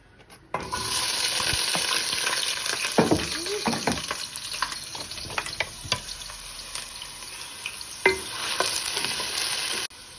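Oil frying in a pan for mashkalai lentil dal in a home kitchen, a steady close sizzle running throughout, with stirring scrapes, a few clinks and knocks.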